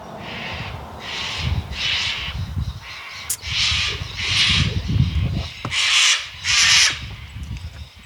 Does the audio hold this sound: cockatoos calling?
yes